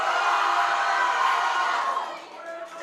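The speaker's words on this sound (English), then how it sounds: "the crowd explodes" A high school powerlifting nationals crowd roars and cheers after a good lift on the platform, a loud sustained wash of voices and whoops that swells, then eases off near the end.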